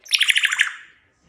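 An African grey parrot lets out a loud, close, rapid run of about eight harsh chirping squawks in under a second, then goes quiet.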